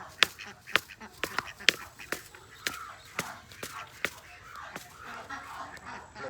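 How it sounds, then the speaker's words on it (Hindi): Ducks on a poultry farm quack in short, sharp bursts, repeated a dozen times at an irregular pace, moderately close, against faint background noise. "ये जाने के बजाय अंदर वाली बतखें भी बाहर आ गई।"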